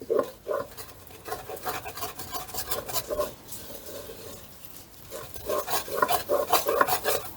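Flour is stirred into melted margarine for a roux, with irregular scraping and rubbing strokes against the pan that come in bursts and short pauses, close and fairly quiet.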